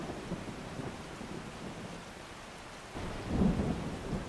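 Thunder rumbles through a thunderstorm with steady rain falling on surfaces, a low rolling swell building louder near the end.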